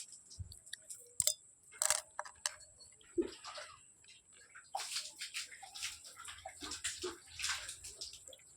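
Cooking oil, about three spoonfuls, is poured into a heated pan (banali) before frying urad dal vadiyalu. Close, wet liquid sounds come in short bursts with a few light clinks between quiet gaps.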